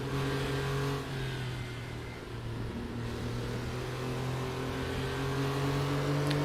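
Late-1990s rear-engined Porsche Carrera Cup race cars roar in a racing video game at Silverstone, a steady loud engine drone with shifting pitch and gear changes throughout.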